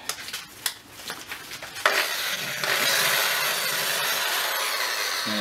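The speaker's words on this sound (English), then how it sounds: "went to town with the wire brush and the drill" A few scattered clanks and taps, then a power drill spins up at low speed and a wire brush grinds steadily against a metal Scott Bonnar 45 mower part in a continuous harsh scrubbing rasp.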